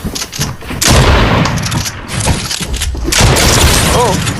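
Gunfire in a video game arena match: a dense run of loud, booming shots and bursts fills the whole stretch, with a voice talking over the action.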